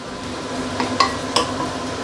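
Chopped leeks stir-fried briefly in a pan, a soft steady sizzle with a few sharp clinks of a utensil against the pan, no voices.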